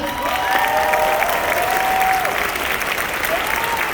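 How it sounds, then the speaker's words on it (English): Steady applause from an anime convention panel audience fills the room, continuous clapping with a few faint whistles or cheers rising over it. "Give him a big round of applause."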